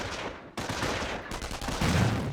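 In Company of Heroes, a grenade is thrown at an enemy machine gun team, heard as loud, dense battlefield noise: a sudden heavy blast amid rattling bursts of gunfire, with no speech.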